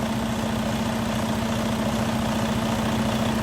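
The Detroit DD13 diesel engine of a 2014 Western Star 4700 SB crane truck idles with a steady, even, low rumble and hum at close range. No one speaks.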